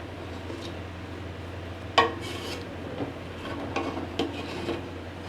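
Moong dal khichdi being dished out of a pot, a sharp utensil clink against the metal followed by scattered softer scrapes and taps of serving, close and moderately loud with no talking.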